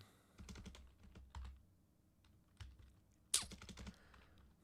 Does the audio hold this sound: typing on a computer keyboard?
yes